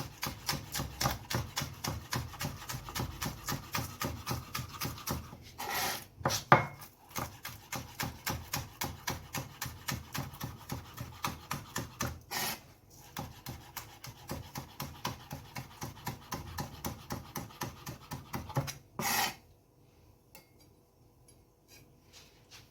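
A knife slices spring onion very finely on a cutting board, with fast, even rhythmic taps repeated steadily for a long stretch, broken by brief pauses and followed by quiet at the end.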